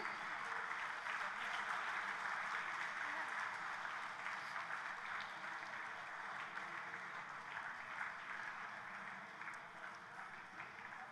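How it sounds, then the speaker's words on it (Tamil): Audience in a hall at an award function in Kovilpatti applauding a children's dance performance, sustained crowd clapping that is faint and distant, slowly tapering near the end. "தங்களுடைய நடனத்தால் இந்த அரங்கத்தில் இருக்கிற அனைவரையுமே மெய்சில் இருக்க வைத்த குழந்தைகளுக்கு இந்த கைத்தட்டல்கள்லாம் நிஜமா பத்தாது"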